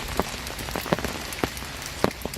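Steady rain patters on a surface beside a lake during a carp fishing session, a dense hiss broken by sharper individual drop taps, close and continuous with no voices.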